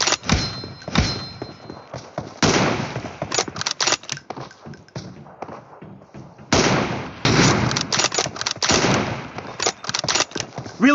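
Bursts of gunfire from weapons in the battle-royale video game PUBG, dense rapid shots and sharp thuds crowding the whole stretch, loud and close with brief gaps between volleys.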